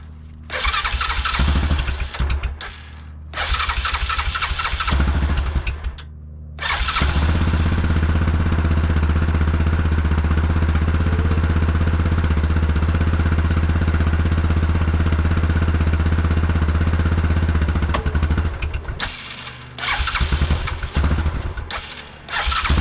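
A Yamaha Grizzly 660 ATV left sitting outside for years starts after a few cranking bursts, then runs loud and close with a rough, uneven idle for a long stretch before cutting out.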